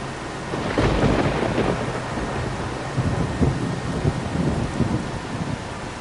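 Rain and thunder in the farming video game Farming Simulator 25: loud rain hissing steadily throughout, with deep, rolling thunder rumbles building and fading in the background and no talk.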